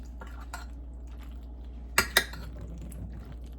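Macaroni and cheese ingredients are stirred in a baking dish, two sharp clinks of a utensil against the dish standing out over a steady low background hum.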